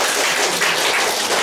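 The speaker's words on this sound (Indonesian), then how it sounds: "tepuk tangan dulu" Brief, dense applause from an audience at a Tumpek Landep ceremony event, a continuous wash of clapping filling the whole moment.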